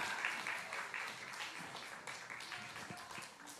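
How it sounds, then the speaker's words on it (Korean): Warm applause rises from an audience at a Korean church service, lively close clapping with some individual claps standing out, fading slightly toward the end. "뜨겁게 박수 한번 해주세요"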